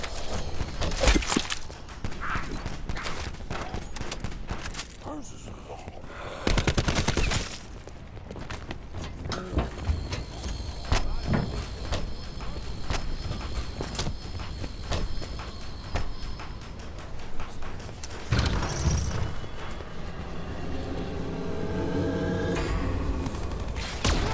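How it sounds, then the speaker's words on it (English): Repeated weapon gunfire in Call of Duty Black Ops 4 Zombies, sharp bursts of shots crowded with game effects and ambience, fairly loud and close, with some quieter stretches between volleys. "Few more shots, my weapon will fall silent."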